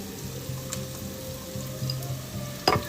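Onions and peppers fry in a pan, a steady soft sizzle with faint low bubbling, and a brief sharp clink near the end.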